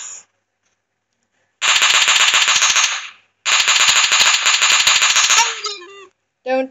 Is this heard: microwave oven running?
no